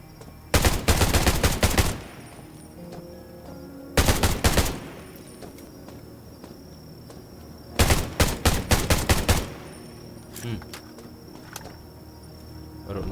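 Bursts of rapid gunfire in the survival shooter Undawn, three loud volleys of quick shots separated by short pauses, with a few scattered single shots afterward and ambient insect chirping in the background.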